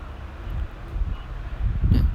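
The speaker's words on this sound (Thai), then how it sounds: "มีเสียงลมอะไรพวกนี้ก็ต้องขอไปจริงๆนี่ยผมเปิดพัดลมนะมันร้อนมากเลยนะครับ" An electric fan blows straight onto the microphone, producing a steady low, rumbling buffet of wind noise that swells louder near the end, with no voices.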